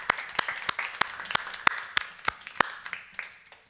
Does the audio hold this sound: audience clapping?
yes